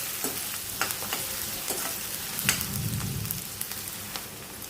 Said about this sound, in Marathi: कांदा आपल्याला छान असं नरम होऊ द्यायचा आहे।